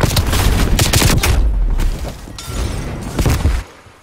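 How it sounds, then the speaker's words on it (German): Gunfire and explosive booms from Call of Duty Black Ops Cold War multiplayer, with a burst of dense, loud blasts followed by scattered further shots and a fading tail. "Werfe Granate."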